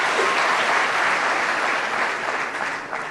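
Applause from the audience at the 2016 presidential debate for the organizers, a broad, even wash of clapping from a large crowd that stays loud throughout and tapers slightly near the end.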